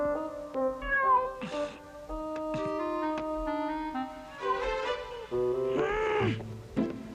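A stranded cat in a Filipino comedy film meows repeatedly in drawn-out, wavering cries, close and clear, over a sustained musical backdrop.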